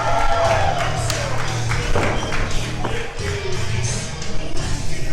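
A wrestling crowd cheers and applauds loudly and continuously at an LWA event, with mixed voices, clapping and thuds filling the space throughout.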